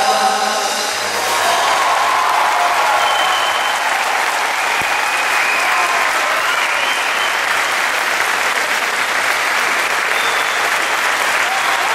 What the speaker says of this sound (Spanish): Gracias por estos merecidísimos aplausos.